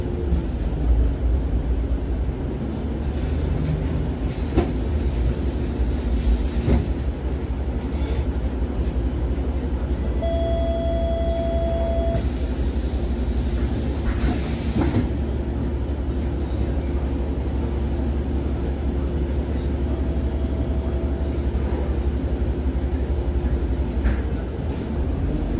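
Steady, fairly loud interior drone of an Autosan Sancity M18LF LNG city bus on Warsaw line 125, with low engine rumble and road noise throughout and a few brief tonal whines over it.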